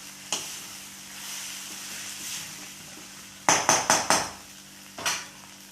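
Radish chutney sautéing in a pan gives a soft, steady sizzle, broken by a quick burst of four or five sharp spatula scrapes and clinks against the pan, then one more knock near the end.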